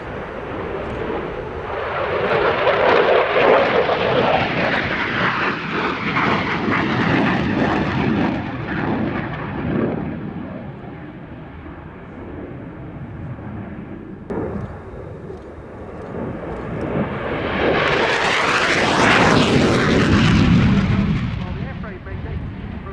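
Belgian F-16 fighter jet flying an airshow display at around 400 knots, a loud sustained roar that swells, fades and surges again as the jet passes close overhead, with a rising afterburner-like whoosh near the end.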